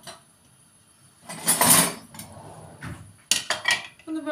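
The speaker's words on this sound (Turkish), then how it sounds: "Ben böyle karıştırayım" A spoon stirs a mixture in a metal pot in a home kitchen, making scraping clinks and knocks in uneven bursts. The stirring is fairly close and moderately loud.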